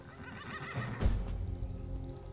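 A unicorn horse in the Skyrim video game neighs with a loud, drawn-out whinny that peaks around the middle, over a steady low in-game background rumble, with no talk.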